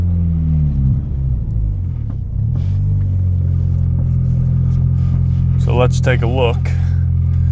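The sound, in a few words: Honda Civic engine running lean, pulsating idle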